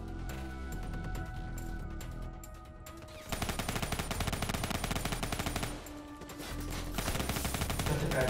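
Gunfire in the Black Ops III campaign: rapid automatic bursts and sharp shots pile up into a dense fusillade that eases briefly and then resumes loudly.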